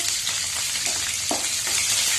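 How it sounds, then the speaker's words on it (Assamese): Chopped onions fry in a pan for pulao with a loud, constant, close sizzle and occasional soft stirring scrapes. "আমি ৰঙচুৱাকৈ ভাজিব লাগিব।"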